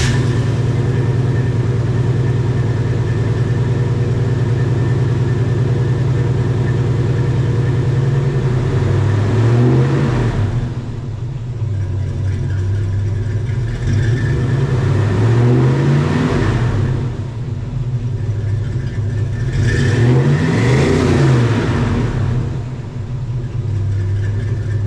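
A 1972 Chevrolet K-10 Custom Deluxe shortbed 4x4 truck on a test drive, its engine droning steadily with repeated swells as it revs through gear changes, loud and close with no talking.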